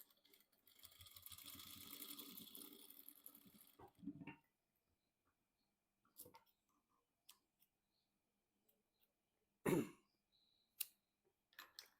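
A sewing machine stitches a fabric strip into a seam while sewing a traditional cloth and jacket, running in a steady whir for about three seconds, followed by quiet handling clicks and taps.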